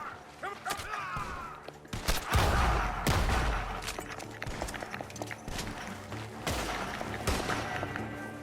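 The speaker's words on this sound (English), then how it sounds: "Gunshots are coming from that barn." Rapid bursts of gunfire from a barn crack repeatedly amid galloping hooves and game action in Red Dead Redemption 2 on PS5, with a voice speaking briefly in between.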